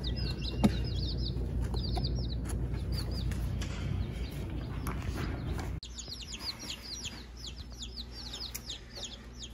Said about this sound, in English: You hear those baby chicks in there?